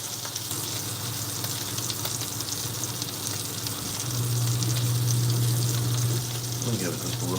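A thick-cut steak searing in a pan, a steady close sizzle that grows louder and fuller partway through as the heat is raised, with a faint low hum beneath.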